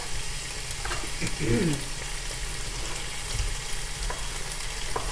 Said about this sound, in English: I'm putting these in the pan, and I'm going to start to saute them